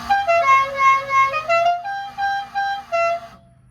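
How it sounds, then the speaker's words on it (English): Car horn of a 1978–79 Ford Ranger Explorer Edition pickup at a Fourth of July event, a string of about eight short loud honks in a bouncy rhythm, close and clear. "but I can honk the horn"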